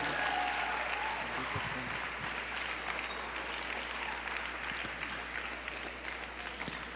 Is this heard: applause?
yes